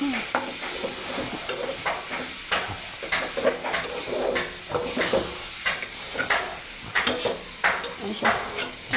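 Leafy greens with spices frying in a pan give off a steady sizzle, broken by repeated scrapes and clinks of a spatula stirring against the metal, close and fairly loud, with no talking.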